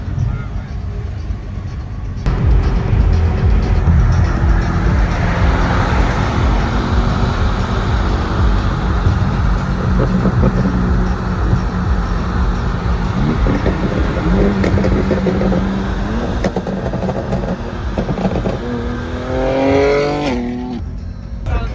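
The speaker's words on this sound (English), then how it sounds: "It's a good exhaust. That sounds good." A loud car exhaust, from cars such as a 650HP Mercedes-AMG GT63 S and BMW G87 M2 on a canyon drive, roars and rumbles steadily for most of the clip, revving up and down, with people talking over it.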